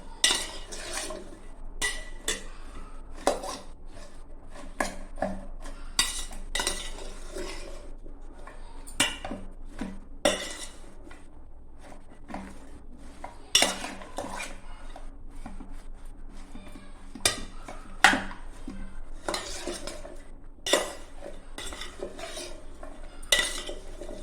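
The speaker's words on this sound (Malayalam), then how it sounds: "അതുകൊണ്ടാണ് ഞാൻ ഈ സ്പൂൺ ഇട്ട് ഇളക്കുന്നത്" A spoon stirs and scrapes breadfruit pieces in a pan, making irregular metallic clinks and scraping taps that repeat over a quiet, faint background. It sounds close and steady, with no talking.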